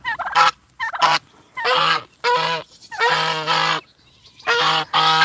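Domestic geese on a homestead honk in loud, close bursts, several harsh nasal calls stacked in irregular clusters with short pauses between them.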